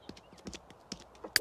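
Horse hooves clip-clop in The Sims 3 Pets, a quick, light patter of a few uneven steps, close and quiet, ending in a brighter sharp click.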